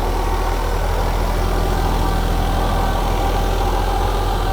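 A tractor engine idles steadily with its levers down, refusing to shut off: a loud, constant low rumble with a vibrating hum and no pauses.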